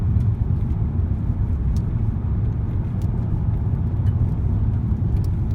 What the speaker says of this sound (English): put your foot on that accelerator and bosh, you're off because it's so fast